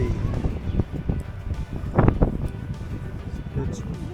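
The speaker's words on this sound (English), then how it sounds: "It's windy today" Gusty wind buffets the microphone with a low, broad rumble throughout, under intermittent talking and a louder gust near the middle.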